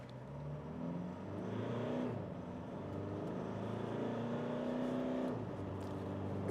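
A 2023 Mitsubishi Triton ute accelerates hard, its engine note climbing in rising pitch with two gear-change dips as the revs build, loud and close.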